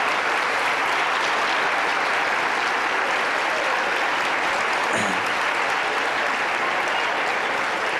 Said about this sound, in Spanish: este aplauso indica que yo tengo que repetir la conferencia